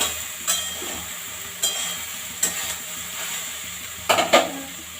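Soybean chunks sizzle in a hot kadai with a steady frying hiss, punctuated by about five sharp scraping clatters of a spatula stirring against the pan, close and fairly quiet.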